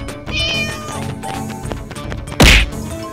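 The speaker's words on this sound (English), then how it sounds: "Cat." A cat meows a few times over background music, followed by a sharp thwack and a loud rising yowl near the end.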